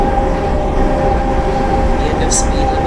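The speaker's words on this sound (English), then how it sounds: "Once the train has fully passed" In Train Simulator Classic on the Cataluña Exprés route, a train rolls past with a loud, steady rumble and a sustained tonal whine, plus a brief high click near the end.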